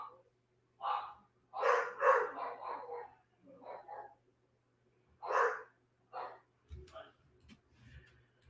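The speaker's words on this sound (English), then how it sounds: "My dogs are going to be barking for a second." Dogs bark indoors in short, separate bursts, some in quick clusters and others spaced apart, at moderate loudness alongside a person talking.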